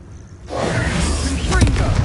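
A Bombarda spell blast in Hogwarts Legacy on PS5: a sudden booming burst after a brief quiet moment, followed by a sustained rumbling roar with crackling debris and game effects.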